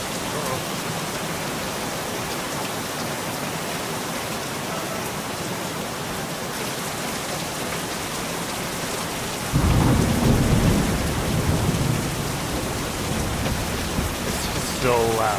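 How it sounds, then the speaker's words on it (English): Heavy rain hisses steadily throughout a video game thunderstorm while a deep rumble of thunder rolls in midway, loud and enveloping, with no speech heard. "You've never experienced a storm in this game."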